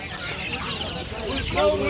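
Chickens cluck and chatter close by in a busy, noisy poultry market in Adana, with a few sharper calls near the end and people talking underneath.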